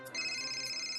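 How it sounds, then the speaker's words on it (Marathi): An office phone rings with a quiet, steady electronic tone that sounds alone for about a second. "ऑफिस मधनं फोन आला."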